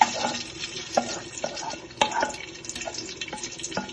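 Sautéed onions tipped into a pot of Kozhikode beef biryani and stirred, giving rhythmic scraping, soft clunks and a low sizzle at close range, with no talking.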